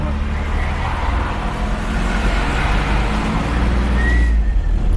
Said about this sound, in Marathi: गाड्या बघा कसल्या येतात. हे बघ कसली फास्ट येते बघा.